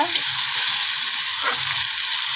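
Ground spice paste fries in a pan, giving a close, continuous hissing sizzle with slight bursts of crackle.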